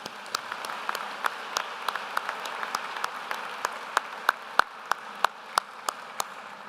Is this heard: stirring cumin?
no